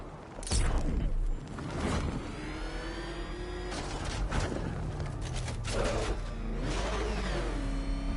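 The Batmobile's engine in a Batman video game on PS4, a loud, continuous mechanical roar with repeated revving swells and whooshing surges throughout.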